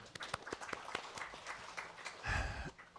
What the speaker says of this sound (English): Let's give a round of applause here.